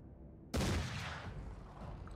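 A single sharp gunshot in the Mordheim: City of the Damned video game cracks loud and close after a low background hum, then decays into a lingering rumbling tail.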